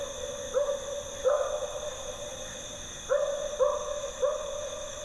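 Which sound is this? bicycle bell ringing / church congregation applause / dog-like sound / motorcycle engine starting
dog-like sound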